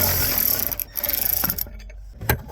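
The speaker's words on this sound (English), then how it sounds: "Now let's get those bolts out." Ratcheting clicks while bolts are loosened from interior trim of a 1970 AMC Gremlin, in quick rapid bursts up close with brief pauses between.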